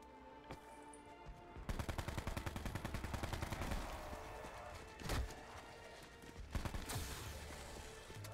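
A gun in a Call of Duty zombies game fires in a rapid, sustained automatic burst, then a few separate louder shots, close and punchy.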